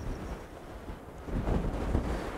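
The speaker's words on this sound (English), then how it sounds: "But it is quite breezy" Wind gusting over a microphone on a breezy, long Channel Coast beach, a steady low rumbling buffet that strengthens midway, with no talk.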